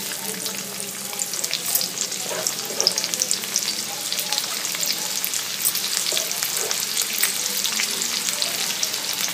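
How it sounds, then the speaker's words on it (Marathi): Sliced onion and a bay leaf sauté in hot oil, giving a steady bright sizzle with occasional stirring scrapes, close and continuous with no talk. "कांदा तेलावर चांगला परतवून घ्यायचा आहे"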